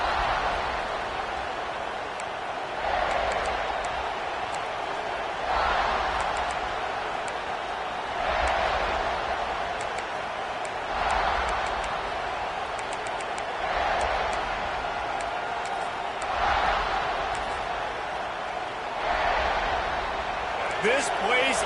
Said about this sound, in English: This place is roaring, and it's going to be so hard to operate under these conditions.